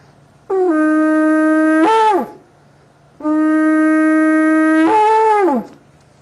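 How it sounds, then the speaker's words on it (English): Two long, brassy horn blasts from a shofar, each holding a steady tone before bending and breaking off at the end, with a short pause between. "I'm going to try to blow it for you so you can at least hear the sound of the shofar"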